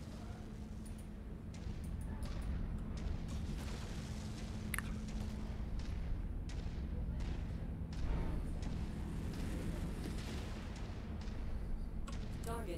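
Mech weapons fire in the MechWarrior 5 video game, a dense barrage of booming, thudding shots over a constant low rumble and hum, loud and continuous, with a voice speaking faintly underneath.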